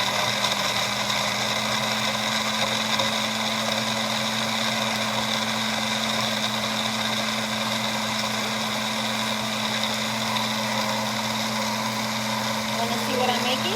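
Apples are pureed into baby food in a blender, a steady, loud, unbroken motor whir and grind that runs evenly throughout.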